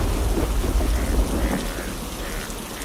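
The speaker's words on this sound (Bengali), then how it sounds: "বৃষ্টি শুরু হয়ে গেল যে, এখন কি করব?" Rain begins to fall and pours in a dense, steady hiss, with a heavy low rumble of thunder beneath it that eases after the first second and a half.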